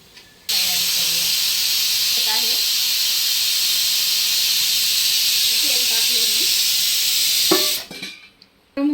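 A pressure cooker cooking mutton vents steam in a loud, continuous hiss that lasts about seven seconds and then cuts off abruptly. A voice talks faintly underneath.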